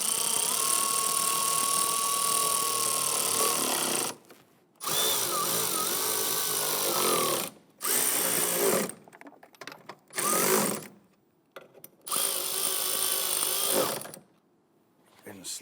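Power tool tightening bolts on a Jeep Grand Cherokee during a cowl and wiper area reassembly, several loud close whirring bursts of a few seconds each, separated by short silences, with someone talking between runs.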